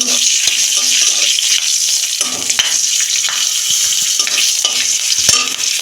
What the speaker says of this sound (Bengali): কালো জিরে একটা কাঁচা লঙ্কা ফোড়নে